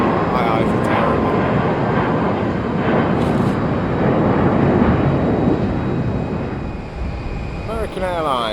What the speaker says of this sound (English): That's A319. British Airways, I can tell that.